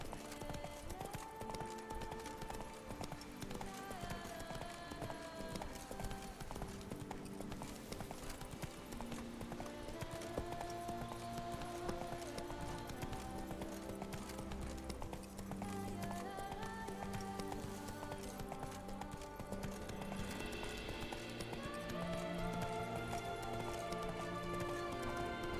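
Steady clip-clopping horse hooves over continuous music, with a faint whinny, in an unbroken, even rhythm throughout, in the video game The Witcher 3: Wild Hunt.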